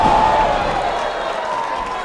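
A wrestling arena crowd in a women's wrestling match keeps up a steady wash of cheering and roaring throughout, broad and sustained at moderate loudness, with no clear talk on top.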